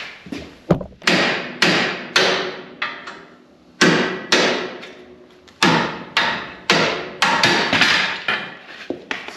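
Repeated metal hammer blows on a chisel against an old 1953 GMC 250 long bed farm truck, about a dozen sharp ringing strikes in irregular bursts, loud and close with no talking.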